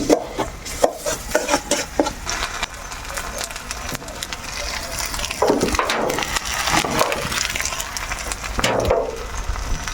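Boiled green banana being mashed by hand, giving soft repeated squelching, rubbing and crushing sounds close by, uneven in rhythm, while someone talks over it.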